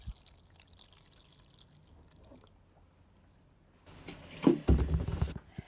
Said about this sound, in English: So I'm just pouring the water into the tray, not into the seeds.